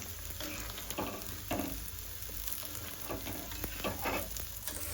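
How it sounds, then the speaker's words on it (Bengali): Cabbage fries in a pan in a home kitchen, a continuous close sizzle with occasional scraping stirs and spatula knocks throughout, no talking. "এই যে কবি ভাজা করতেছি"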